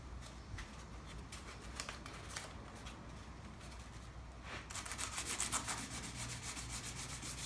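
Hand sanding of old, weathered car paint with 600-grit sandpaper, producing rhythmic close scratchy rubbing strokes that turn faster and brighter partway through, quiet and with no talking.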